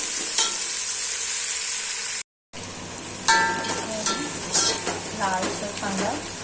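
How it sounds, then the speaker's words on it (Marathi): Onions frying in a pan to brown for chicken biryani, a continuous close sizzle with stirring scrapes, broken by a brief cut to silence partway through. "सर्व कांदा आहे ना आता फ्राय करून घेते."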